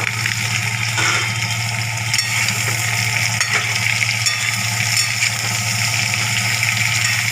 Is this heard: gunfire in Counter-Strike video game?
no